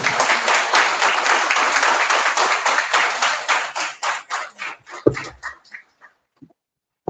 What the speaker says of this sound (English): So you can clap for me.